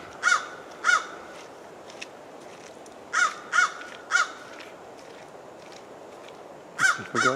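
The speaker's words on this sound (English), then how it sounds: "That's a crow." A crow caws loudly nearby along a wooded game trail, calling in paired and triple bursts of harsh cries with pauses between, heard outdoors over a faint background hiss.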